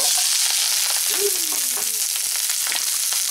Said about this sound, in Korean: 자 요거 한번 볶아서 먹어보지요